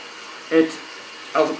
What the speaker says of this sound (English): sorry about that noise, me filling my boiled pot up